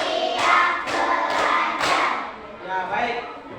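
A school class claps a counted rhythm together, with four or five sharp, evenly spaced bursts of hands close by, mixed with voices from the group.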